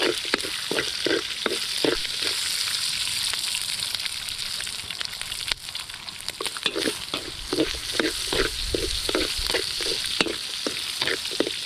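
Crushed ginger sautés in a pan with a constant bright sizzle, while a spoon scrapes and stirs in a steady, rhythmic series of strokes close by.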